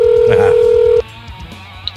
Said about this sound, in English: Waiting for the guest to pick up the phone.